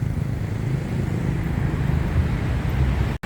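Loud, steady roar of city road traffic near Mo Chit BTS station on Phahonyothin Street in Bangkok, with cars and motorcycles passing close and continuously and no talk over it.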